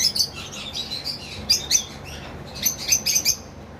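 A cream-face cockatiel, moulting and kept low in its cage, gives a few short high chirps and tweets, clustered in bursts separated by pauses, close and clear with no voices.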